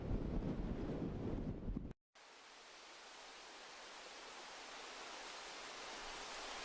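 Strong wind buffets the microphone on an exposed hilltop, a dense roaring rush that drops out briefly to silence, then returns as a steady, even hiss with no voices.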